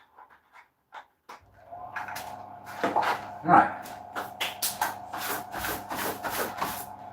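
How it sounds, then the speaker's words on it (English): Steady whirring drone of an air cleaner running in a woodturning workshop where an oak bowl is being turned, a constant hum under intermittent nearby speech. "this may sound a little bit distracting, but it's my air cleaner"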